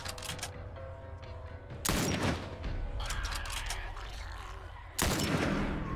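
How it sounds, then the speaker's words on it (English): Gunfire in the video game The Last of Us, with dense rumbling background action and two heavy bursts of shots standing out, alone without talk. "They probably heard all the shooting."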